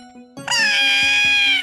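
A loud, drawn-out cat meow rings out close by after a few faint background tones, holding steady before trailing off.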